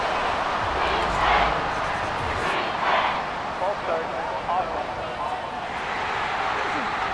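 Stadium crowd noise in the football video game Madden 24, a steady loud roar with swelling cheers, heard under commentary voices.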